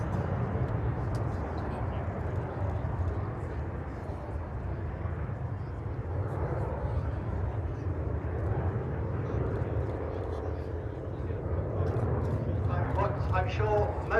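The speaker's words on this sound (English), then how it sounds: "the Vulcan will run in to commence its display." Avro Vulcan jet bomber flying its display, a broad continuous roar rumbling steadily throughout as a commentator talks over it, with crowd noise near the end.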